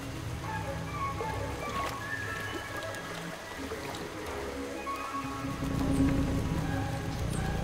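Steady broadband hiss of heavy rain, a continuous wash of falling water that swells louder near the end, with no voices.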